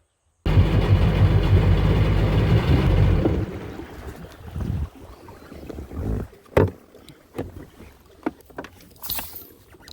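A Sea-Doo personal watercraft on a river during high water gives a loud, close roar with wind buffeting for about three seconds, then drops to quieter splashes, knocks and thumps.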